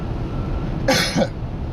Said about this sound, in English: excuse me, I know I have a cough.